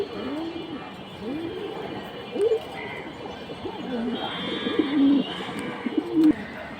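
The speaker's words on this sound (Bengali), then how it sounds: "এখানে দেখুন আরেকটা ফ্লায়ার কবুতর দিয়ে দিল বাবু কবুতর ভাই।" Pigeons coo repeatedly at a crowded pigeon market, their soft, rolling calls recurring close by amid background murmur.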